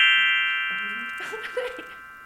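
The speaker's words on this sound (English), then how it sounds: "Glockenspiel." A glockenspiel sound effect rings out bright sustained metallic tones that slowly fade, overlapped midway by a brief murmur of voices.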